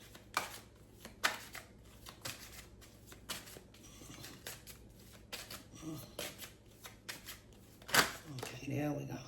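Tarot cards shuffled by hand in repeated soft riffling bursts, close and fairly quiet, with a person talking quietly underneath.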